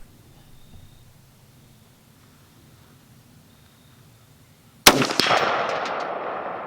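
A single rifle shot at an outdoor shooting range, from a rifle fitted with a Vortex Crossfire II 4-12x50 scope, cracks loudly after several seconds of near silence, then a rumbling echo trails away.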